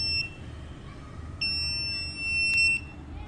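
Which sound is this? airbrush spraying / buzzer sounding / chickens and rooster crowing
buzzer sounding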